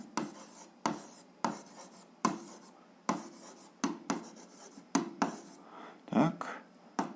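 A pen scratches across paper as an algebra exercise is written out by hand, producing a series of about nine distinct, close strokes in an uneven rhythm.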